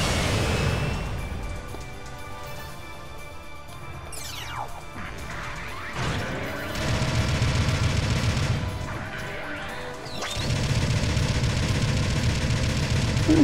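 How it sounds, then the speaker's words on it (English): The heavy cannon of a Heavy Gundam in Gundam Battle Operation 2 fires repeated loud blasts and crashing impacts over a steady rumble of in-game battle noise. "this cannon does a fuck ton of damage."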